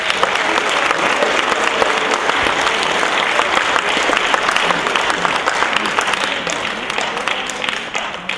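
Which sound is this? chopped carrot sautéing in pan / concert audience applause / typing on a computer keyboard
concert audience applause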